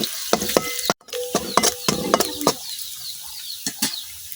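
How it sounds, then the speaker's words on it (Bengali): Onion frying in a wok, stirred with a utensil: a sharp, close run of scraping and clinking strokes over a soft background sizzle, with a brief dropout near the start and the strokes thinning toward the end. "এখন আমি পেঁয়াজটা কিছুক্ষণ ভাজা দিলাম"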